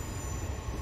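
Long passenger train of about ten coaches in the train simulator Railworks on the North Lincolnshire route, a brief steady rumble of rolling wheels and carriages, loud and continuous.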